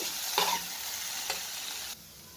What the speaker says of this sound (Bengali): এই তিন টুকরো আদা আর ভালো করে এটা আমি নাড়াচাড়া করে নেব